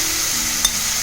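Grated beetroot fries in a pan with a steady, close sizzle, and a single short scrape of stirring cuts in near the end. Nobody speaks.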